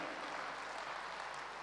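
Audience clapping at a musical evening in the Gyan Sarovar hall at Mount Abu, a dense, even wash of applause from a large crowd heard at a distance, fairly soft and sustained without pause.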